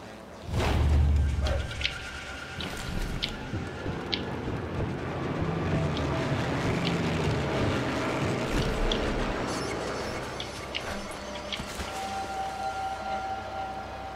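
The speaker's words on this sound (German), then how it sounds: "da kommt das Fahrzeug" A vehicle in the World War II sniper game Sniper Elite 3 rumbles steadily closer through a busy game soundscape, its engine drone rising and holding for several seconds amid scattered clanks and tones, with no talking.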